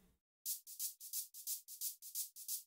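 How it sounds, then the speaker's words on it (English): A shaker in a hip-hop beat plays alone as a steady run of crisp, hissy shakes in an even rhythm, each with a soft swell, after a brief moment of quiet at the start. "I added in a shaker,"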